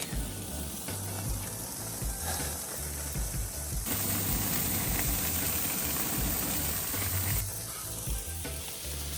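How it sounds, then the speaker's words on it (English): Steak tips sizzle on a grill with a steady, dense frying hiss, joined midway by a brighter, louder hiss before settling back, with a faint low mechanical rattle underneath and no talking. "Let's toss this on the grill."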